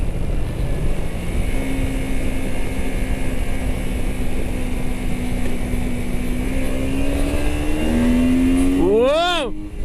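Honda Shadow 125cc motorcycle engine revving up near a riverside towpath: a steady droning note that climbs sharply in pitch at the end as it accelerates hard, loud and close under wind noise.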